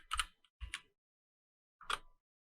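Three short bursts of clicking keys, close and crisp, separated by silent pauses, like quick typing on a computer keyboard.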